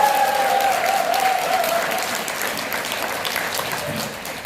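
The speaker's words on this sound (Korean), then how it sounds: "나 자신의 성공을 위해서 크게 박수 한번 치고 시작하도록 하겠습니다." An audience claps loudly and continuously at a network marketing lecture, a dense wash of applause that slowly fades a little over several seconds, with a faint tone in the background.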